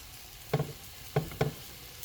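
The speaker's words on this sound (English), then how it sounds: "So now I will put it into the pan. I'll stir it all together nicely." Finely chopped Kreng Kreng leaves being stirred in a pan for a peanut soup, a few soft scrapes and dull taps of the utensil over a quiet low sizzle, close by.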